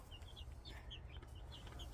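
Hens clucking in a backyard flock, with several short, bright calls scattered across a steady low rumble of background noise, fairly close and without any talking.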